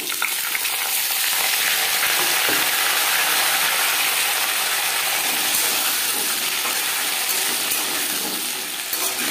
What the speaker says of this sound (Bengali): মূলো ভেজে নেব।